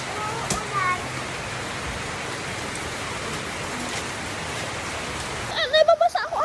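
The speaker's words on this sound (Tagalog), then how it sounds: "Kasi umuulan." Steady rain falls around people walking under umbrellas, a dense even hiss throughout, with a few brief voices near the end.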